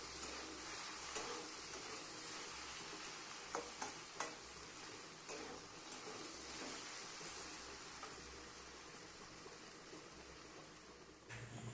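Potatoes frying in a pan for a Bengali jhinge aloo posto are stirred in a soft, steady sizzle with scattered light scrapes and clicks. The sound is faint and continuous, with no one talking.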